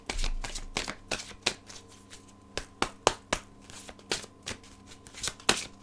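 Tarot cards are shuffled and the deck is cut by hand, giving close, crisp riffling snaps in quick irregular bursts, with brief pauses between the flurries and no talking.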